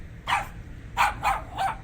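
A dog named Leo barking, four sharp barks, one early and then three in quick succession, moderately close over a low background rumble.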